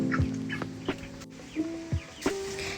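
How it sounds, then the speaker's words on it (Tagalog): Young chickens about 22 days old clucking at a farm in the mountains, a few short close clucks scattered over a quiet background. "Okay, so ito na yung mga manok."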